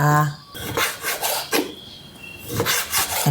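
Close knife strokes slicing liver on a cutting board, a few scraping slices with short pauses between them, with a brief voice at the start.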